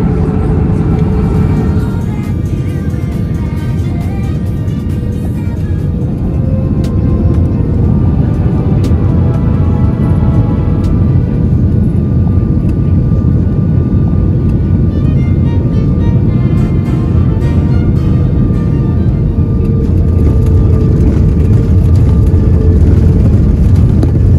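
An IndiGo Airbus A320 airliner lands at an airport, heard as a loud, steady roar and rumble that keeps going without a break and grows slightly stronger toward the end.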